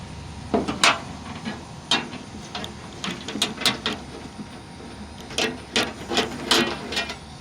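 An adjustable wrench twisting a car antenna loose: a run of short dry metallic rasps and scrapes in uneven bursts, close and fairly quiet, with no talk.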